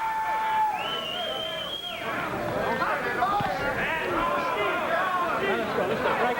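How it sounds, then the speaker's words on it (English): At a boxing bout, a crowd of supporters shouts and chatters in a busy, continuous babble, with a ringing tone early on and an announcer talking over the noise. "the crowd here behind us, a lot of Bones Adams supporters get into it verbally"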